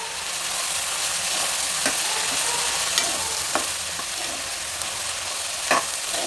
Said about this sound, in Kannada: ಒಂದು ಐದಾರು ನಿಮಿಷ ಎಣ್ಣೆನಲ್ಲಿ ಕಾಳನ್ನು ಹುರಿಬೇಕು ಹೈ ಫ್ಲೇಮಲ್ಲೇ ಇದೆ